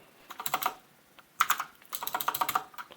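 Typing on a computer keyboard during terminal work, heard as close, quiet bursts of rapid key clicks with short pauses between bursts.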